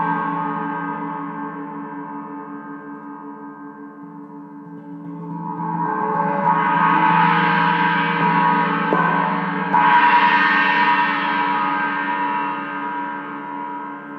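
Paiste China cymbal picked up by an overhead mic with a little reverb, a long trashy wash that swells and is struck again partway through, ringing steadily and loud on its own before slowly fading.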